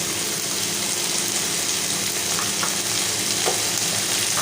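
Potatoes tipped into hot spices in a pan for singara filling, giving a loud, steady sizzle and fry that stays constant throughout, with faint stirring scrapes and no talk.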